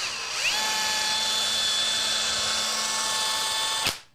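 A small electric drill bores into cheap dollar store dice, a steady high-pitched whine that spins up near the start, holds loud and even for several seconds, then cuts off abruptly.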